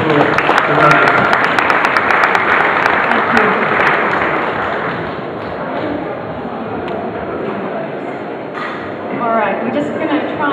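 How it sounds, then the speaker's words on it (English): A crowd at a make-up effects awards event claps loudly at first for the judges, and the applause gradually thins and fades, with voices mixed into the noise. "So a round of applause for the judges."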